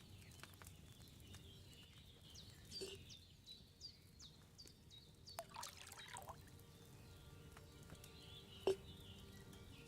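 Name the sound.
wine poured into a cauldron in Kingdom Come Deliverance video game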